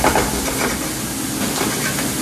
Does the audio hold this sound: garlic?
yes